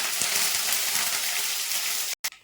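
A loud, steady sizzle of curry leaves frying in hot oil with popped mustard seeds fills the clip, then cuts off abruptly near the end with a brief crackle.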